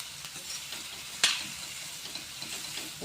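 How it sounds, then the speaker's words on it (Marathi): Chopped ridge gourd hisses and sizzles in a pan while being stirred, with a continuous soft frying sound and one brief sharp scrape of the spatula. "असं परतत परततच वाफवून घ्यायचं आहे"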